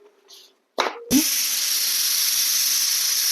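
A pressure cooker full of broken wheat abruptly releases a loud, continuous hiss of steam after a few brief clinks and a plop, the close, steady hiss sustained to the end.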